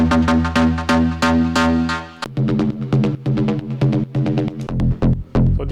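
Techno synth preset from Ableton Wavetable plays a rhythmic pattern of bright, buzzy repeated notes, then shifts to a different plucky sequence midway, steady and loud with no talking.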